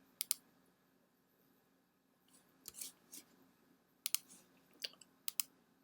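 Computer mouse clicks at a desk while uploading a design file, coming as a handful of crisp, quiet taps, some in quick pairs, spaced irregularly over low room hiss with no one talking.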